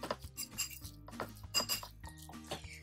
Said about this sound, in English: Just stirring, stirring, stirring.